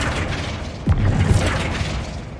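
A single sharp magical blast from a Flipendo spell in Hogwarts Legacy, a sudden thump with a whooshing burst and rumbling tail over a steady game background.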